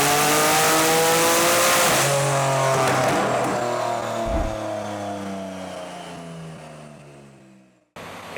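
An 800-horsepower port-injected Kia Stinger accelerating hard on a boosted run, a loud engine roar climbing steadily through the gears, then fading into the distance before cutting off abruptly.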